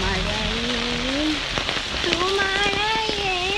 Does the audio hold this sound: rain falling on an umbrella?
yes